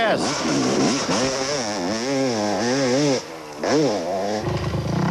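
A big four-stroke Yamaha motocross bike races on an open course, its engine revving up and down repeatedly in rising and falling surges, loud and close, with brief drops between gear changes under a commentator's voice.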